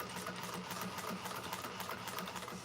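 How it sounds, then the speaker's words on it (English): A sewing machine runs steadily while topstitching a bag lining seam at an eighth-inch allowance, giving a continuous fast mechanical whir with a faint rhythmic needle chatter, fairly quiet and close with no talking. "go ahead and top stitch that in place with a 1/8 of an inch seam allowance"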